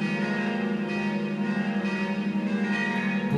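Several church bells ring together as one sustained, resonant chord, loud and continuous with no voices.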